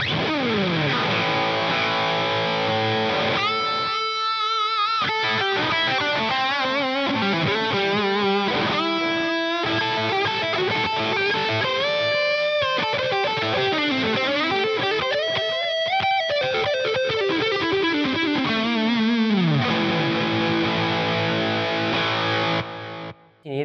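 Heavily distorted electric guitar through a NUX NME-5 Trident multi-effects unit with delay and boost on plays chords and melodic bends with a saturated, effects-laden tone, loud and continuous with no voices.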